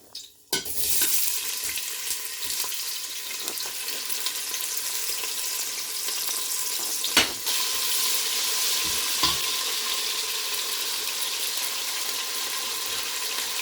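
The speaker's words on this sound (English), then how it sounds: "I'm going to fry my tomatoes with oil, groundnut oil." Tomatoes fry in groundnut oil for egusi soup, a steady close sizzle running throughout with a few sharper clinks of stirring in the pan.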